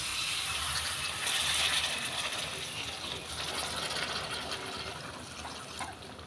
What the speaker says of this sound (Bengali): কিছুক্ষণ নেড়েচেড়ে নেওয়ার পর আমরা এবার এতে দিয়ে দিচ্ছি গরম জল